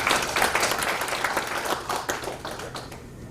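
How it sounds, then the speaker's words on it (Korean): Applause from the audience at a Korean special lecture event marking the 100th anniversary of the March 1st Movement, a dense steady crowd of clapping sustained throughout and tapering slightly toward the end. "크게 박수 한번 해주시기 바랍니다."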